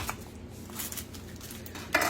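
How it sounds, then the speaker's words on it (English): A small knife cutting an onion on a board, giving a few faint, sparse taps and clicks in a quiet kitchen. "I'm not used to cutting with that little knife."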